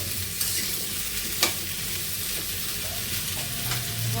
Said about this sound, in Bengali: ওল আর আলুটা একটু ভেজে নিচ্ছি